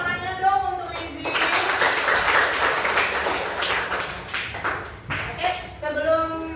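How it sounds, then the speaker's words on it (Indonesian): A fourth-grade class claps for a classmate in a school lesson, a burst of room applause lasting several seconds. Children's and an adult's voices are heard before and after it. "Tepuk tangannya dong untuk Rizik"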